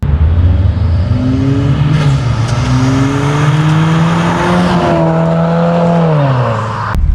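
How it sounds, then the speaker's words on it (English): 2017 Subaru WRX Premium sedan with a CVT, heard from inside as the engine pulls with a rising, steady drone, holds its pitch through stepped climbs, then drops away near the end, loud and close. "now we're actually driving this 2017 WRX"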